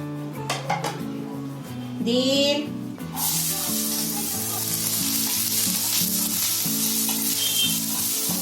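Chopped onion drops into a little hot oil in a pan, and a loud, close, continuous sizzle bursts up and holds. A person talks just before it starts, and a few metal pan knocks come near the beginning.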